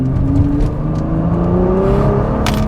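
A 2021 Nissan GT-R Premium with a V6 accelerating hard, a loud, rising engine drone that builds steadily with a whirring tone from start to finish.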